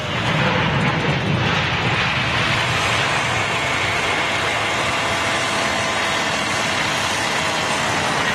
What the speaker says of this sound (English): Listen to that Rolls-Royce RB211 grinder